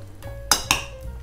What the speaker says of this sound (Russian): И давайте еще раз перемешаем.